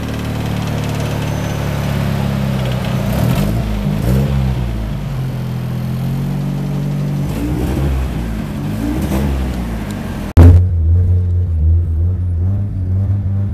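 A car with a welded differential revs hard while drifting, its engine droning and surging through repeated rises and falls before cutting off abruptly, then a short low burble of idling.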